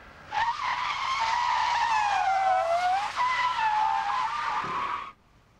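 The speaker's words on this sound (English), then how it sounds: "This example simulates stopping with the right tires on dry pavement and the left tires on ice from a speed of 50 miles per hour. First, without ABS." A police-package car brakes hard from 50 mph without ABS, its right tires on dry pavement and its left on ice, giving one loud, sustained tire squeal that wavers in pitch for about five seconds before cutting off.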